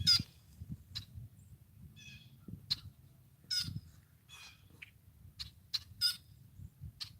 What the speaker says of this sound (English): Birds are fun when you watch them when they're making those sounds